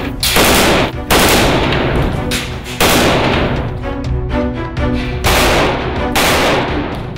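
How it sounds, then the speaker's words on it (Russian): An AK-12 assault rifle fires loud, close bursts of automatic fire, several separate strings of rapid shots broken by short pauses, with no talk. "Одна из последних тем, которая уже представлена на суд оружейных экспертов и военных – автомат АК-12."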